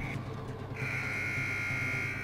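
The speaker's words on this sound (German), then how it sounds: "Mist, der Alarm ist aktiviert." An alarm goes off in the video game Far Cry 4, a steady electronic buzzing tone that starts briefly, pauses, then holds continuously over low game ambience, with no talking.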